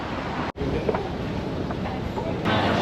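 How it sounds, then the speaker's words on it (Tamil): A Singapore MRT train runs on from Maxwell station, a loud steady rumble and roar of the carriage in motion with a short break partway through, and no talk over it. "மேக்ஸ்வெல் எம்ஆர்டி ஸ்டேஷன் இதில் ஏறிட்டு ஒட்டரம் பார்க்கு போயிட்டு இறங்க வேண்டியதுதான்"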